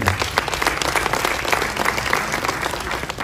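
Loud, dense applause from a big audience at a Tanzanian music album launch event, continuous fast clapping close up throughout with a few scattered cheers mixed in.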